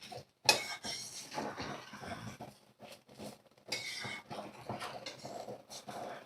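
Egg biryani being mixed in a pot, with scattered scrapes, clinks and soft thuds of a spoon against the vessel, close and irregular.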